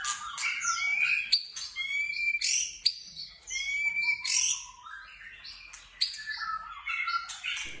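White-rumped shama (murai batu) singing loud, varied whistles and chirps in quick phrases with brief pauses, close and clear over a faint insect hum.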